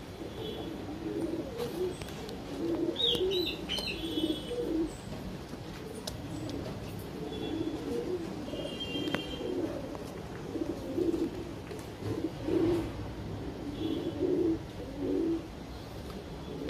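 Madrasi pigeons cooing in a loft, soft repeated low coos rising and falling over steady background hiss, with a few faint higher chirps now and then, moderately distant and without speech.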